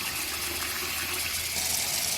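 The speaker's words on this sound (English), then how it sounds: "So, 2nd can of water." A can of water pours into a pot of homemade chili, a steady soft gushing splash heard alone at low level.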